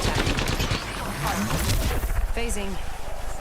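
Rapid automatic gunfire in the video game Apex Legends, loud dense bursts blending together, heard under excited talking from players.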